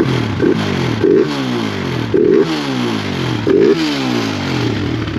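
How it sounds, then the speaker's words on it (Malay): A Yamaha LC135 motorcycle with a free-flowing aftermarket exhaust revs repeatedly, deep bassy throttle blips rising and falling over a steady rumbling engine, loud and close. "Dengar betul-betul bunyi exhaust dia. Bass kan?"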